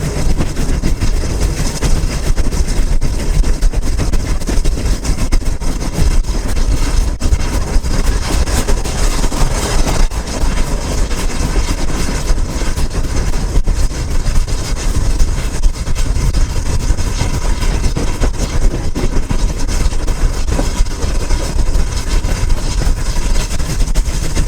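A West Somerset Railway heritage train rumbles along on its return run toward Bishop's Lydeard, with a continuous loud, broadband roar of engine and wheels on track and no voices.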